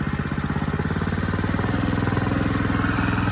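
Small engine held at full throttle around 3,400–3,500 RPM while warming up before snow, a steady loud pulsing drone with a rapid regular firing beat throughout, no voices.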